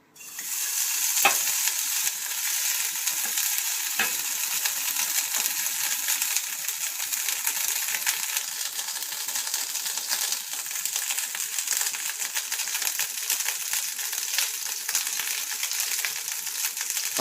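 Butter heats and melts in a vessel with a steady, continuous sizzle and crackle, with occasional small pops over a dense, even hiss that lasts throughout.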